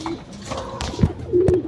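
A racing pigeon coos softly at the loft after a derby race in San Andres, Quezon, with a couple of short throaty coos and faint background noise.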